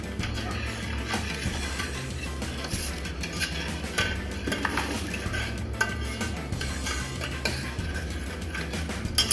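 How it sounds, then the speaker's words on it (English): Gummy bear mixture is stirred in a pot, a soft continuous scraping and light clinking of utensil against metal, faint and close with low background hum throughout. "You can give that a little stir."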